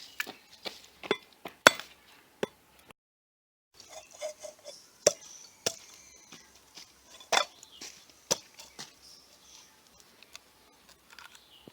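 Four shelled coconuts being cut into pieces in a kitchen: a run of sharp, irregular knocks and chops, close and crisp, separated by short silences, with no talk.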